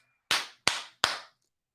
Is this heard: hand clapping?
yes